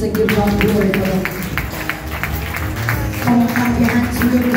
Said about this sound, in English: Somebody clap your hands and give God glory for that.